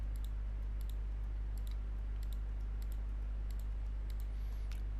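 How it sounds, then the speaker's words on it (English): Quick computer keyboard typing, including backspace and enter presses, comes through as sparse, crisp clicks in short clusters over a steady low hum, with no talking. "erase it using the backspace and then hit the enter key"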